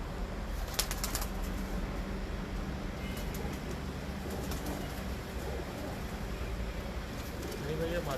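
Pigeons on a rooftop loft in Multan give a quick burst of flapping wings near the start, then soft cooing and shuffling continue steadily under faint background hum.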